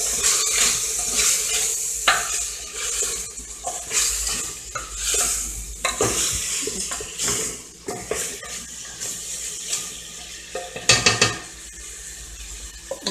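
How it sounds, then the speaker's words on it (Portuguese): A spoon stirs food in a pot after coriander goes in, giving repeated scraping and clinking against the pot with a faint sizzle and watery bubbling, close and steady with no talking. "E por fim, coentro. Vamos mexer."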